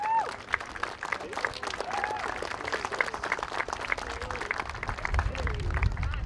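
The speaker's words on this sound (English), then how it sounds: "A round of applause for Nanette, please." An outdoor crowd at a 2022 Westwood baseball opening day gives sustained applause and cheers, with voices mixed into the steady clapping throughout.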